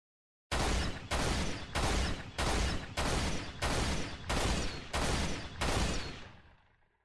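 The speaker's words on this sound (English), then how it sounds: "So this is how the actual needler rifle sounds like." Needler rifle from Halo firing as eight evenly spaced loud bursts, each roughly half a second long, sounding alone and close, with the last burst trailing off.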